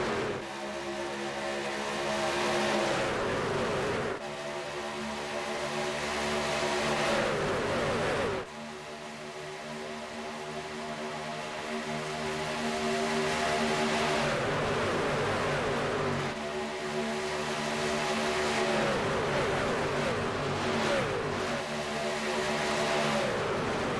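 Race cars at Talladega roar past, engines climbing in pitch through repeated gear changes, loud and continuous with waves of rising revs and several cars overlapping.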